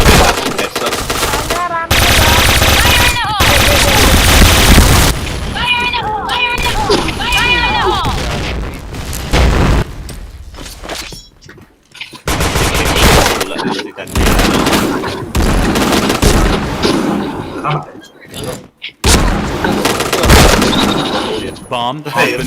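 Rapid automatic gunfire and single shots in a tactical bomb-defusal shooter game, loud bursts with booms and gaps of near silence, while a player talks excitedly over the action.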